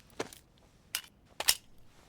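Rounds clicking into a rifle magazine in the DayZ game, heard as three separate sharp metallic snaps spaced across a couple of seconds, fairly faint with no talk.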